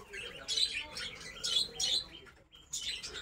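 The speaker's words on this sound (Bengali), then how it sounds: "ছোট ছোট পাখি আছে" Small birds chirping in a hotel garden resort in Murshidabad, several short bursts of high tweets at moderate distance over a soft outdoor background.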